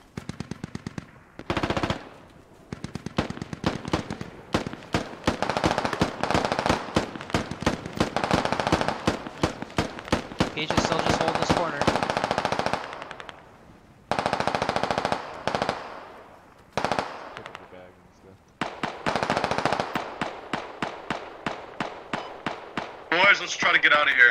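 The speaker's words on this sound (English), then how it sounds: "Oh, suppressing fire. Good shooting." Sustained bursts of automatic gunfire in a Squad military shooter battle, rapid rattling volleys loud and close, broken by short pauses and ending in a run of single spaced shots.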